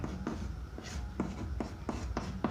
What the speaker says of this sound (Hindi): यहाँ लिखते हैं समीकरण 1